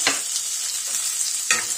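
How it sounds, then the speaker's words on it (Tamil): Shallots, garlic and curry leaves sautéing in a pan for a grandma-style okra tamarind curry give a steady close sizzle, with two sharp stirring scrapes at the start and near the end and no talk. "இப்போ சின்ன வெங்காயம் எல்லாம் போட்டுட்டு கொஞ்சமாக கருவேப்பிலையை போட்டு இப்போ நல்லா வணக்கிடுறோம்."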